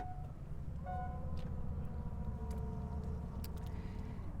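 Hands-free power tailgate on a 2021 Mercedes GLA 250 opening: a steady whining motor hum rises after a short pause and runs on evenly, fairly close, with no talking.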